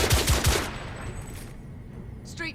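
Auto rifle fire in The Order 1886, a rapid loud burst of shots in the opening second, then a quieter stretch with brief clanks and a faint voice at the end.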